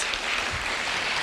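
Audience at a university startup incubator demo day clapping for its supported startups, a short burst of crowd applause at moderate loudness.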